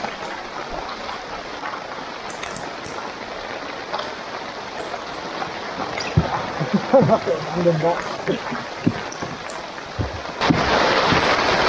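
Rain falls steadily at a river during a fishing match, a dense broadband patter with scattered droplet taps and a louder burst toward the end, while voices murmur faintly in the background.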